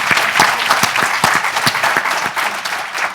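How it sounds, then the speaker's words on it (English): Steady applause from an audience, dense clapping filling the whole stretch with a few sharper, louder claps standing out. "Give her a round of applause."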